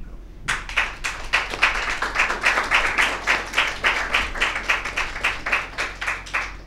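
An audience at a morning gathering on education claps in steady, rhythmic unison, each clap a sharp, evenly spaced beat that pulses at a fairly quick tempo for several seconds, moderately loud with no talking.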